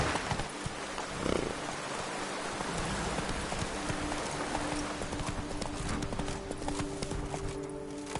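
Roach, the horse in The Witcher 3 video game, gallops with a fast, steady clip-clop of hooves over dense rain-like background noise, continuous and fairly loud.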